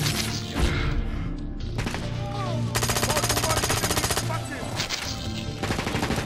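Rapid bursts of automatic gunfire crackle over a dense soundscape in the video game Brink, with heavy impacts and a steady rattling volley in the middle.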